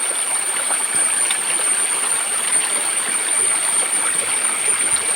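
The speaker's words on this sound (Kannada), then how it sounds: "ಹಾಗೆ ನೀರು ತೋಟಕ್ಕೆ ಹೋಗ್ತದೆ ತೋಟಕ್ಕೆ ಹೋದ ನೀರು ಮತ್ತೆ ಹೊಳೆಗೆ ಸೇರ್ತದೆ" A stream diverted from a river into a plantation flows with a steady, close, unbroken rush of water and no talking.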